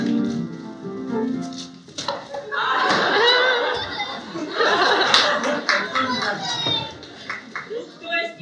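Clapping and excited children's chatter and laughter at a kids' party game around a table, bursts of hand claps mingled with loud voices and giggling nearby.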